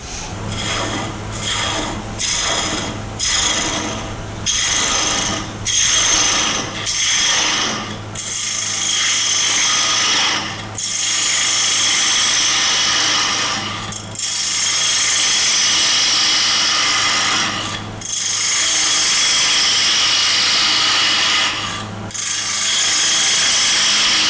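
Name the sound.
bowl gouge turning a wooden bowl on a lathe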